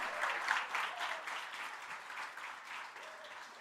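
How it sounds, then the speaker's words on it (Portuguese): Audience applause at a church celebration service for someone named Bruno, a steady wash of clapping through the whole stretch, moderately loud with a faint voice or two above it. "eu queria que você aplaudisse pela vida do Bruno"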